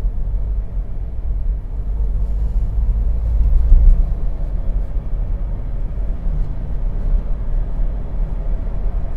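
An older Toyota Innova engine with a faulty airflow sensor, a deep, close rumbling drone that swells briefly as the throttle is pressed, then settles back to a rough, uneven hum.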